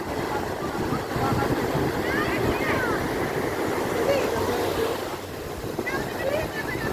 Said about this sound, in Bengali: সেই কালাপাথর বিচে এসেছি।